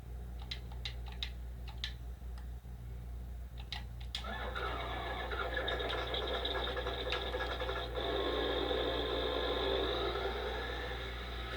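A few clicks, then a mechanical whir cranks up into a steady engine hum with a high whine: a tractor engine starting in Farming Simulator 19.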